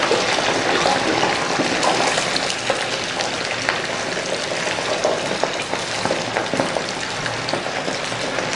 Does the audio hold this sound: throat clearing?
no